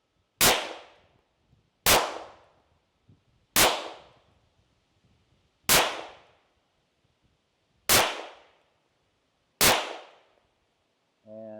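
Six evenly spaced shots from a Phoenix Trinity LO PRO pistol firing 115 and 124 grain ammunition, each a sharp loud crack with a short decaying ring, about two seconds apart, followed by a faint click.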